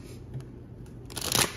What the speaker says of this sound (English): Let's pull some cards from here.